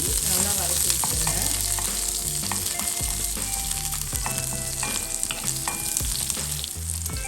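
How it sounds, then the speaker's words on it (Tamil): Coriander leaves and garlic cloves sautéing in a pan for chutney, a loud, steady sizzle of frying with stirring scrapes and clinks throughout, no voices. "எல்லாத்தையும் சேர்த்து நல்லா வதக்கி வச்சுருங்க."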